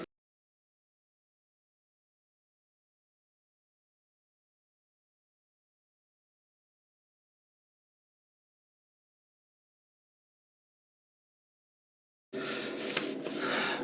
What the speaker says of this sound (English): just like I did with the other wax, you just buffer it on in